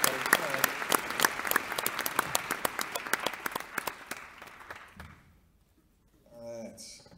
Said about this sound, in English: You guys can clap too.